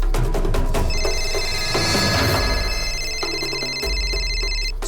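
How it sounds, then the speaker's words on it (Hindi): An electronic telephone ring trills loudly and steadily indoors, a sustained repeating chime that fills several seconds with no talking over it, set in a tense crime drama scene. "किसका फोन है?"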